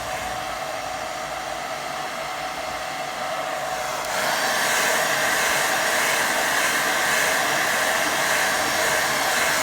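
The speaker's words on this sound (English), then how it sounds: "I'm going to give that a quick blast with hairdryer" A hairdryer blows steadily to dry watercolour paint, a constant close whooshing hiss that steps up to a louder, higher setting partway through and runs with no talking.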